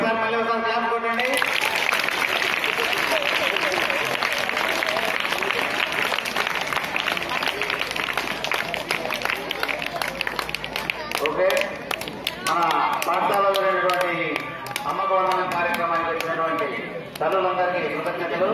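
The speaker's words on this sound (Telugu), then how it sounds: "ఒకసారి మళ్ళీ ఒకసారి క్లాప్ కొట్టండి" An audience of mothers, children and guests at a village school function claps in a sustained burst of dense applause, fairly loud, with people talking and cheering over it near the end.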